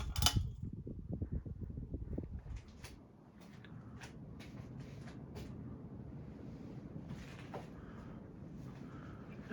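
Casablanca Panama II 50-inch low-profile ceiling fan switched up to high speed, giving a steady broadband whoosh of moving air with faint low thumps early on, close and continuous, no talking.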